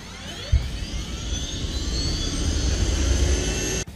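A gas turbine engine in a road car gives a rising turbine whine with a high whistling pitch over a low rumble, building steadily in intensity before cutting off abruptly.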